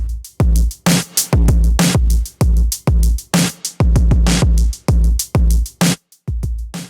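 Loud, heavily distorted sampled drum hits with punchy kicks and crunchy, saturated snares in a choppy, gated groove, close and aggressive, distortion blended in parallel on the drum bus.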